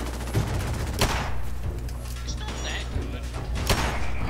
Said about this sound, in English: I'm switching to Kellogg's pistol because I'm scared